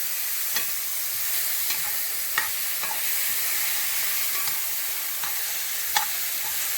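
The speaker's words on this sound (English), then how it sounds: "Stir it around a little more." Food stirred in a pan with a heaping tablespoon of melted butter, a faint steady hiss with a handful of spaced spoon scrapes and taps against the pan.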